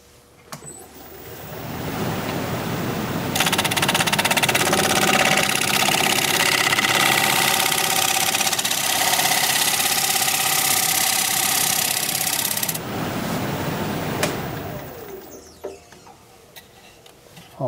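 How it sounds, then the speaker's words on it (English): A wood lathe turns a rectangular winged bowl as a 1/2-inch bowl gouge cuts it, giving a loud, harsh scraping roar that builds and holds for several seconds before dropping back to the spinning hum. "I think I'm going to switch to a little smaller gouge, try and get up in here and get this cleaned up a little bit."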